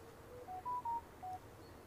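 Livestream donation alert tone at a plane-spotting stream from Edinburgh Airport: a short melodic sequence of about four soft electronic beeps over low background hum.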